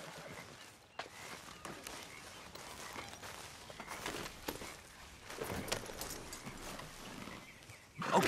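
Horse hooves clip-clopping in Red Dead Redemption 2, a steady run of soft footfalls over a continuous outdoor ambience, with a louder burst near the end and no talk.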